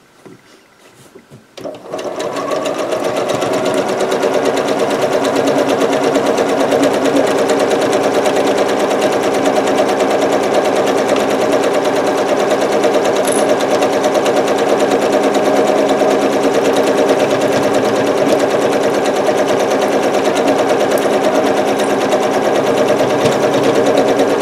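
A sewing machine stitches a quilt in one long, steady, fast run that starts after a brief hesitation and hums loudly and evenly throughout.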